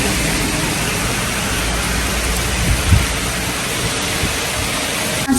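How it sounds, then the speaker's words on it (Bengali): Heavy rain pours down in a dense, steady roar, loud and close throughout, with a couple of faint low thumps and no talking. "এখন দেখুন কি বৃষ্টি"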